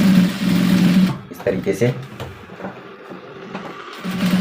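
A sewing machine stitches belt loops onto trouser fabric for a belt; a steady mechanical run opens, then sparse clicks and handling follow before the motor resumes faintly, with a voice speaking over it.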